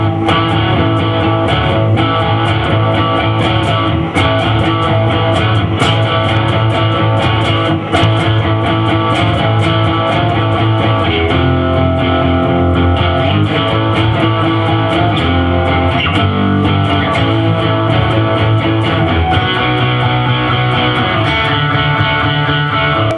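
An electric guitar plays a steady strummed rhythm part through a Plexi amp simulator in Guitar Rig 4, a full, mildly driven tone that runs continuously without talk.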